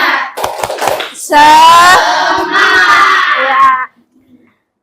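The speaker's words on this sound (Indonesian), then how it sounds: "Dimulai dari tepuk semangat." Children in an Indonesian classroom perform a rhythmic spirit clap, bursts of loud chanting and clapping in two strong phrases after a teacher's brief spoken cue, ending abruptly into quiet.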